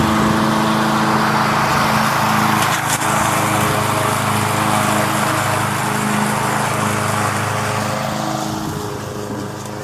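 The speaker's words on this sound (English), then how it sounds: "So she's mowing down pretty low to the ground." A walk-behind lawn mower runs at full throttle close by, cutting grass low to the ground in a garden bed, its steady engine drone easing slightly toward the end.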